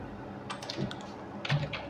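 Someone typing a search about crude oil inventory data on a computer keyboard, giving a few soft, close key taps in two short bursts over low room noise.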